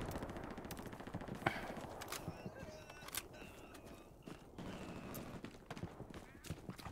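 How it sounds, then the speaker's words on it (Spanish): Faint, distant gunfire in Hell Let Loose, scattered bursts and single shots cracking over a busy background with footstep-like clatter and some voices. "Me disparan."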